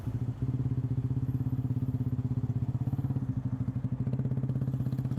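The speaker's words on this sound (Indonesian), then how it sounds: "Aku kira motor apa, ternyata knalpot nih bagus." Motorcycle fitted with an aftermarket exhaust idling and revving, a rapid pulsing low throb that stays loud and close throughout, with a brief rise in pitch near the end.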